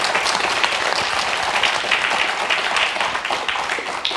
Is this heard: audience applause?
yes